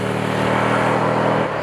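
Harley-Davidson Pan America motorcycle engine pulling hard, a loud, steady, close-up roar with dense harmonic drone throughout and a slight dip near the end, no voices.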